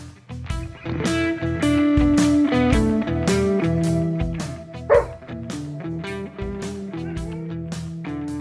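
Several dogs bark in a podcast ad, with repeated sharp yaps and woofs standing out against a busy, steady tonal backing for about eight seconds.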